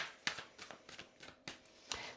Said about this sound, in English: So I'm going to start with shuffling the tarot in front of you guys